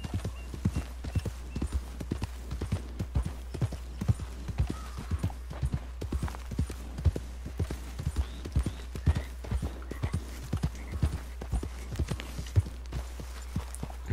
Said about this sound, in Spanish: Eres una yegua blanca preciosa.